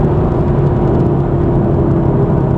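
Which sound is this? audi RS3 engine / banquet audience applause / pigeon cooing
audi RS3 engine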